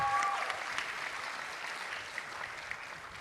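An audience claps at a youth political rally for change, a steady wash of applause that stays fairly even throughout, with a few brief tones at the start and no talking.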